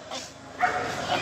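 A dog barks at a busy Friday dog market where puppies are sold, with a couple of short yapping barks mixed into the crowd noise while people talk nearby.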